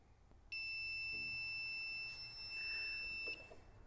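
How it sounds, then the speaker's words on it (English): A carbon pile load tester's timer gives one long, steady electronic beep lasting nearly three seconds during a car battery load test, clear and sustained against a quiet background. "it held the charge up until the little timer beeped"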